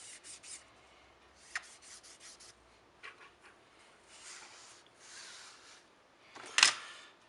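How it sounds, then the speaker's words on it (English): A yellow colored pencil being sharpened, giving soft scraping and rubbing bursts in short bouts with pauses between, ending in a brief louder rasp. "And then sharpen the yellow."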